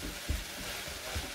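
Tomato puree being stirred into chilli con carne in a pan, giving a quiet, soft sizzle with a couple of low scraping stirs, close by.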